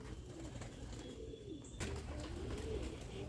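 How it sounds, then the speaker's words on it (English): Pigeons coo softly and repeatedly in a loft hallway, with low rolling calls overlapping at a close but quiet level. A brief clatter partway through adds to the calls. "I can see birds in the hallway."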